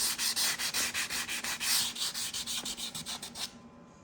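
Sandpaper rubbed by hand along the edges of CNC-cut wood for a bookshelf, a steady series of quick, close scratchy swipes in even rhythm, about a dozen strokes, with no talk.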